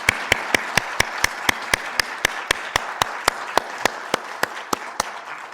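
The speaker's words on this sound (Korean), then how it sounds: "큰 박수로 격려해 주시기 바랍니다" A congregation at a Christmas Day church service claps in steady unison, sharp evenly spaced claps repeating about four times a second over a soft background wash.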